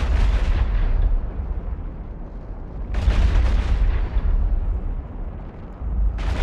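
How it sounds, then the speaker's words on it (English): Heavy cannon fire from a Brutix ship in a space combat video game: two deep, sustained booming volleys separated by a rumbling lull, with a third starting at the end, loud and close. "Venture starts orbiting and the Brutix fires"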